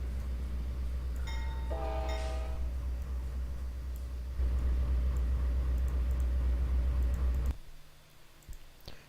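A Norfolk Southern C39-8 diesel locomotive in the Trainz railway simulator rumbles with a deep steady engine drone, a horn blast sounding in the first seconds, before the engine note shifts and cuts off abruptly near the end.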